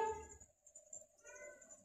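A cat meows in two short, fairly faint calls separated by a brief pause, close by in a quiet room.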